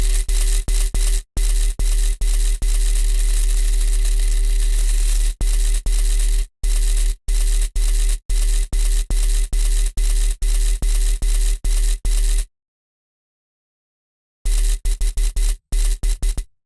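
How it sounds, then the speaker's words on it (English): Coffee grinder sample played through a synthesizer sampler, a loud, continuous noisy whirring drone broken into rapid stuttering chops, dropping out briefly before resuming for a final burst. "The grinder, a coffee grinder, that's fun."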